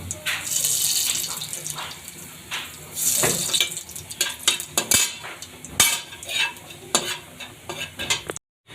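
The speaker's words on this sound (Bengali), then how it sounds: "এবার 2টা শুকনো লঙ্কা আর রাঁধুনি ফোড়ন দিয়ে দিচ্ছি।" Dry red chillies and radhuni seeds tempering in hot oil in a kadai, crackling and sizzling close up with bursts of spitting and scraping stirs.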